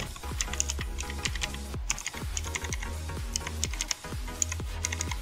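Typing on a Rawar Frontline W1 mechanical keyboard fitted with loud blue clicky switches: a steady, close run of sharp clacks and key bottoming-out thuds with no voices.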